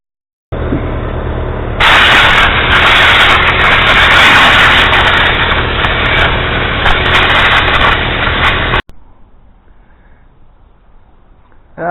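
Compressed air blasts steadily at close range to blow dust out of a radiator. The loud, continuous hiss grows stronger after a moment, holds for several seconds, then cuts off abruptly into quiet background.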